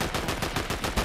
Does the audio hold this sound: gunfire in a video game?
yes